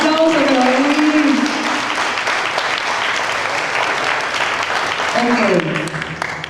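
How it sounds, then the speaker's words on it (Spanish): A church congregation applauds in a broad, steady wash of clapping that fills the whole stretch, while a voice speaks over it at the start and again near the end. "Un aplauso que lo den bien"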